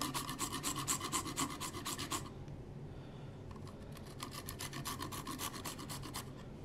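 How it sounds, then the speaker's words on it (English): Fresh nutmeg is rasped on a grater in rapid, even back-and-forth strokes, a steady scratchy rhythm that stops for a moment and then resumes, close and fairly quiet, with no talk. "we are going to grind some fresh nutmeg in"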